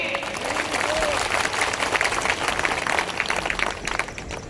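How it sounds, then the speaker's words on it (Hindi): Crowd applause at a BJP political rally in Bamori, a loud dense clapping that swells and holds close for several seconds, with a few voices mixed in. "अब तालियां बजेगी।"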